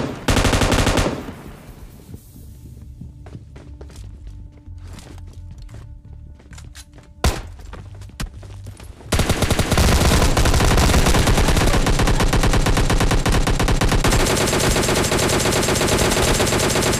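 Gunfire in the PUBG Lite battle royale game: a loud burst of shots opens, followed by scattered single shots and clicks, then a dense, sustained stretch of rapid automatic fire through the second half.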